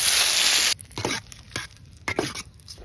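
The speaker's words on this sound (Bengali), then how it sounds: "এখন মোরা বাগার দিয়ে হেলাম।" Chopped onion hits hot oil for a tempering poured into a Barisal-style fig and prawn curry, with a loud bright hiss for the first moment, then quieter bursts of stirring and clatter close by.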